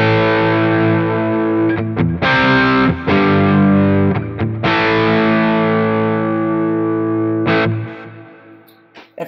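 An HSS Strat-style electric guitar plays chords through a mild crunch preset on a Quad Cortex, with tape delay and plate reverb, loud and sustained with several struck chords ringing out and fading at the end.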